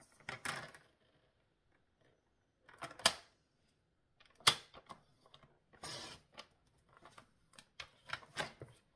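Card paper being cut in two for a simple diamond greeting card, heard as several separate short, crisp snips and rustles spread out over the stretch, with quiet pauses in between and no talk.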